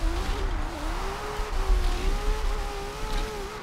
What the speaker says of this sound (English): little freestyle drifting